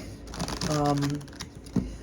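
Tarot cards riffled in a quick shuffle, a close, crisp fluttering burst lasting about a second with a soft tap as the deck settles, and a voice heard faintly alongside.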